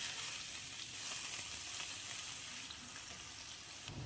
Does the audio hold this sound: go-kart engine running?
no